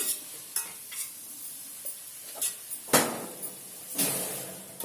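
A spatula scrapes and clatters against a frying pan of potato and cabbage in oil, in irregular strokes, with a soft sizzle underneath; close by, no voices.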